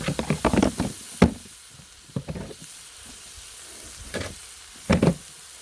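Sirloin steaks cook on a hot griddle, giving off a steady low sizzle broken by several sharp, loud crackling bursts and scrapes at uneven intervals, close up with no voices.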